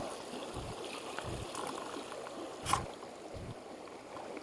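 A small mountain torrent in the Hautes Alpes flows steadily as a faint, continuous wash of water, with a few soft thumps and one brief sharp click in the foreground.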